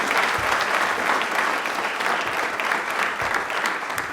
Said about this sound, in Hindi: भाई एक बार तालियां जोरदार हो जाए सुनीता जी के लिए।